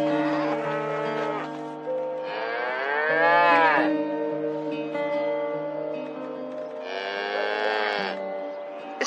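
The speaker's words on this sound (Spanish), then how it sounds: "Reconozco sus mugidos." A cow in labor on a farm gives loud, close, drawn-out moos, three long groaning calls with rising and falling pitch separated by short pauses, heard alone.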